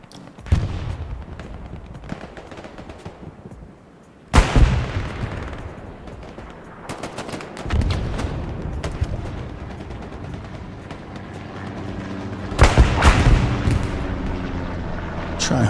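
Sniper rifle shots crack in Hell Let Loose during a competitive match on the Hürtgen map, several loud sharp reports spaced seconds apart over a continuous background rumble of distant battle.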